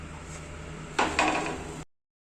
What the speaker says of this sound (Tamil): இப்போ இதை நல்லா மெதுவா நம்ம கிளறி விடலாம்.